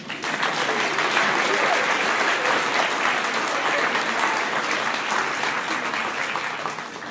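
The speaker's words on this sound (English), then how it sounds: "You can applaud." An audience applauds after a school orchestra performance, a steady, dense wash of clapping from many hands that holds evenly for several seconds before easing slightly at the end.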